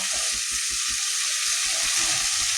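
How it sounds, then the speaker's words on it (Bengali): Fried potatoes tipped into a pan for rohu fish-head curry set off a loud, constant high-pitched sizzle and hiss, close up, with soft low rhythmic thumps of stirring underneath. "এবারে ভেজে রাখা আলুটা দিয়ে দেবো।"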